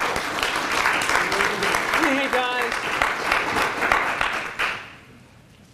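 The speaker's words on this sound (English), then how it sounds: "Give him a big round of applause." Audience applause fills a panel event on social media startups, steady and fairly loud under a man's brief spoken greeting, then fading away over the final second.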